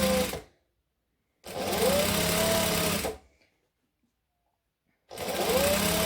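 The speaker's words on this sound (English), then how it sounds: "if you wanted to chain sew this, you could just grab 2 and start sewing again" A sewing machine stitches fabric pieces for a Christmas tree skirt in two loud, steady runs of rapid needle clatter, each lasting a second or more and separated by full silence, with a third run starting at the end.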